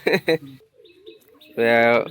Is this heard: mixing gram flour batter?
no